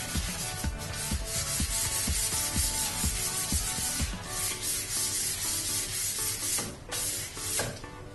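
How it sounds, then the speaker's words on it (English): Rhythmic rasping strokes of 240 grit sandpaper rubbed by hand back and forth over a surface, close and steady, with a regular scrubbing pace. "we'll go up to our next 240 grit. And we'll keep sanding."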